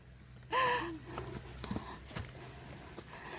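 A hiker heading uphill on the Mt. Pico de Loro trail lets out one sharp, loud breathy gasp up close, then softer breathing and faint shuffling steps follow against outdoor background noise.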